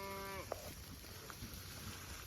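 A cow gives a single clear moo at the start, while cattle feed on fallen honey locust pods in a pasture. It is heard over steady outdoor background noise, followed by faint thumps and rustles.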